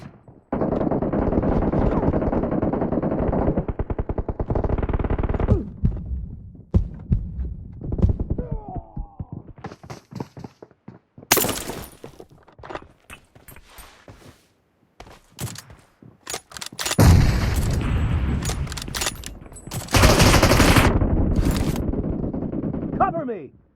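Sniper fire from an M24 rifle in a PUBG Mobile team deathmatch, heard as sharp bursts of shots amid dense game effects, with a character voice calling out over the action.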